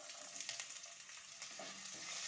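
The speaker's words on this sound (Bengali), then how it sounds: "তেল গরম হয়ে গেছে। এবার এতে আমি দিয়ে দেবো সরষে, দিয়ে দেবো কারি পাতা, দিয়ে দেবো পেঁয়াজ" Mustard seeds, curry leaves and onion crackling in hot oil, a faint, even broadband sizzle with a few small pops throughout, no voices.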